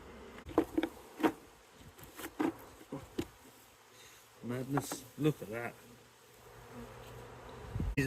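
A close, constant hum of buzzing honeybees from a colony being rehoused fills the background while someone speaks briefly over it.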